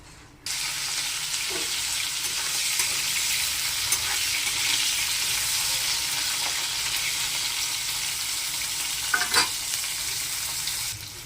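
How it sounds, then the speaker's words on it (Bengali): Cauliflower florets fry in hot oil in a pan just used for fish, giving a steady, close sizzle with a few sharp stirring clicks and no talking. "মাছগুলো ভাজা হয়ে গেছে, এবার ফুলকপিগুলো ভেজে নেব।"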